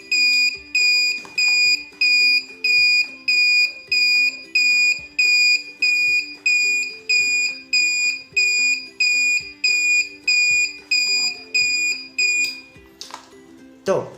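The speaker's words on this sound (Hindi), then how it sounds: "यहाँ पर आप देख सकते हैं कि ऐसे टाइमर वाला साउंड अंदर से बाहर आ रहा है, यानी कि थोड़ी सी सेकंड के लिए ऑन हो रहा है, थोड़ी सी सेकंड के लिए ऑफ हो रहा है" Homemade timer circuit powered by a 9V battery drives a piezo buzzer that beeps on and off in a steady repeating pattern, about one beep per second, loud and close, with a voice talking underneath.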